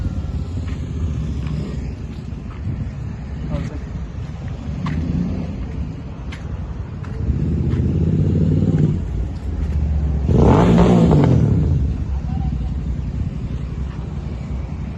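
A BMW 1000 RR motorcycle revs up from a low rumbling idle, its engine swelling in two loud throttle blips around the middle before dropping back to a rough idle nearby.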